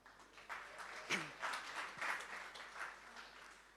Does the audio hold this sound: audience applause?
yes